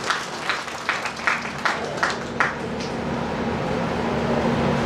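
Audience applause at an SC/ST business summit and honour ceremony, heard as a run of short clapping bursts that settle into steady, sustained clapping from a large crowd, with a faint hum underneath.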